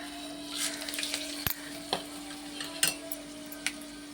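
Spices sizzle and spit in hot oil with occasional light scrapes and a sharp knock of a utensil against the pan.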